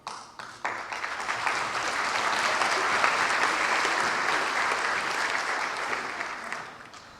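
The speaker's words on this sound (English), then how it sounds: "for that, we applaud you" A large audience at a Fall 2010 commencement ceremony bursts into sustained applause, a dense wash of clapping that swells quickly and holds steady for several seconds before fading.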